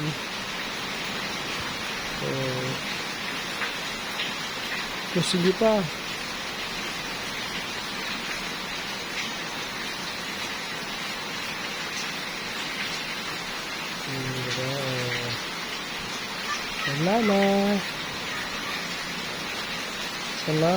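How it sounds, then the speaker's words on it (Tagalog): Steady rain hisses across a surface, a constant wash of patter, with a few brief spoken words rising above it now and then. "Buti na lang ngayon, umulan na."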